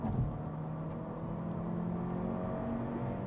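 A 2023 Honda Civic Si engine hums steadily through a downshift, a continuous mid-level drone with faint whirring and no speech.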